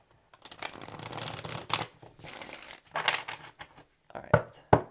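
Quick bursts of tarot cards being riffled and shuffled, several short flurries with brief pauses, then a couple of sharp taps.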